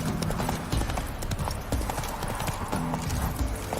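Roach the horse trots in The Witcher 3 game, producing a steady, close rhythm of hoof clip-clops over a busy game soundscape.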